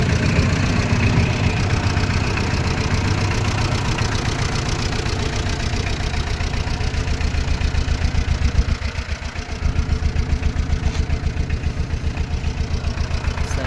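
A Tata Ace mini truck's small diesel engine idles steadily and loudly up close, with a continuous low rumble and rhythmic knocking throughout.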